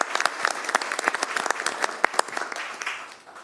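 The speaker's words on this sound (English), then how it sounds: "So how about one last round of applause for you?" Applause at a city council meeting, a scattered round of individual claps from a modest group, crisp and close, thinning out and fading toward the end.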